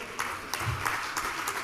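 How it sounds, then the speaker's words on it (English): Audience clapping at an African debate event as a reverend professor is introduced, a steady wash of claps with a few sharper hits, moderately loud and sustained briefly. "A round of applause for him."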